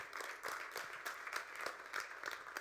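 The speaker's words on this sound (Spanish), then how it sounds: "de este aplauso fuerte, déselo al Señor" A church congregation claps during a Spanish-language ministerial training sermon. The applause is fairly faint and runs continuously, with some sharper clap bursts, and no voice over it.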